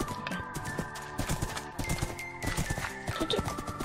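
Horse hooves clip-clop steadily in a murder mystery video game, the galloping beats rapid and fairly close amid other game sounds.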